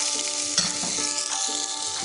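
Soaked, uncooked chickpea paste added to a hot pan and stirred, giving a loud continuous sizzle and frying hiss with scraping stirs throughout.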